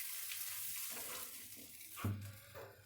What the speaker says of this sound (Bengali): এখন টমেটো নেড়ে চেড়ে ভেজে নেব এর কাঁচা সেন্টটা চলে যাওয়া পর্যন্ত